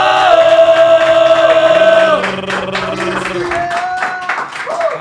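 A studio audience gives a loud welcoming applause for a reggaeton artist, clapping and cheering layered over playing music that shifts partway through.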